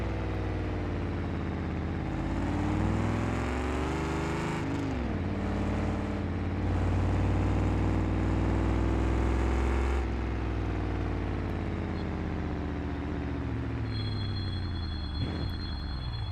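A car engine in the driving game BeamNG.drive revs continuously at high pitch, rising and falling in sweeps, loud and alone without talking.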